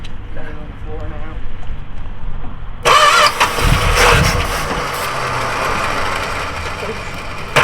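A bagged wagon's car engine cranks and catches, revving up loudly and then settling into a steady, rumbling run close by, with people talking over it.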